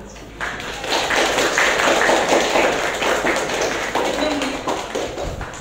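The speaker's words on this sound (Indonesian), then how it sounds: "Untuk presentasinya kita kasih aplaus untuk kelompok Jepang" A classroom of students clapping in applause for a group's presentation, dense broadband patter running steadily for several seconds at close range, with some voices mixed in.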